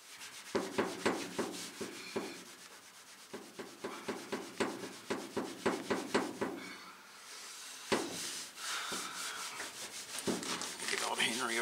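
Painted lettering on a Model A pickup body being rubbed by hand, a steady series of rhythmic scrubbing strokes, close and fairly loud, with a brief pause before rougher, continuous rubbing.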